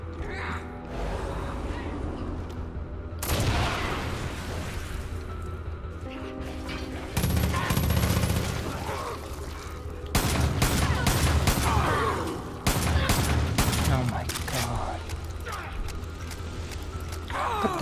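Assault rifle fire in Far Cry 5 zombie mode, loud bursts and single shots in several clusters amid clanking game mechanisms and ambient noise.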